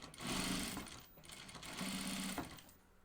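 A domestic sewing machine stitches denim for a pair of jeans, running in two steady bursts with a short pause between them, close up and loud with no talking.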